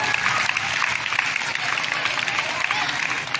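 Short stretch of continuous applause from a school audience at a Republic Day function honouring prize winners, a dense even patter of many hands with faint crowd noise beneath.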